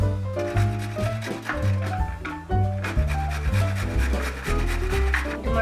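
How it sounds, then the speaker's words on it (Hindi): Ginger grated by hand makes a close, rhythmic scraping rasp in repeated strokes of about a second each, loud and continuous, with no voices. "हम ये अदरक का टुकड़ा घिस लेंगे।"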